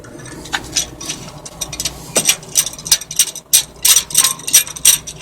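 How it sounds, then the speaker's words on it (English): A giant C-clamp being tightened to compress a front brake caliper on a 2008 Honda Odyssey, giving a series of irregular metallic ratcheting clicks and creaks, close and fairly loud, with no talk. "Use a giant C-clamp for this process."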